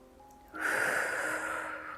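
One long, breathy, hissing breath taken during a yoga and pilates breathing exercise, close to the microphone and starting abruptly after a quiet moment.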